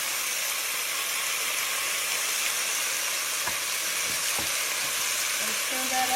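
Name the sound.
garlic added to browning meat sizzling in pan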